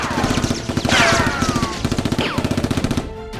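Rapid, rhythmic bursts of gunfire crackle through a Nerf gun fight, with whooshing streaks of shots passing close by and no speech.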